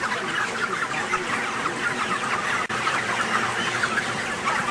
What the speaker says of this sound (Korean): 같은 사료에 단지 마시는 물만 달리한 닭.